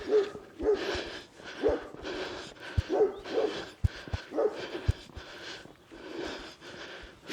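Several dogs bark repeatedly in short bursts, fairly close, with some snorting and whimpering mixed in; no one speaks.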